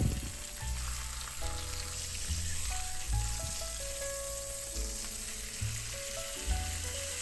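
Swordfish steaks sear in hot canola oil on medium-high heat, a steady close sizzle and crackle that runs unbroken throughout, with low thumps and clatter of the pan underneath.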